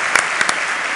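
A keynote audience bursts into applause, a dense, bright burst of clapping with a couple of sharp peaks, over in about a second.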